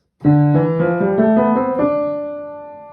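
A tonal instrument plays a rising stepwise scale of eight notes from D up to the D an octave above, each note sustained and ringing out, with no talking.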